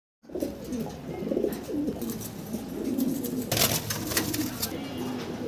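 Fancy pigeons at a seller's, a close chorus of deep repeated coos and warbling calls overlapping continuously, with a brief rustling flutter midway.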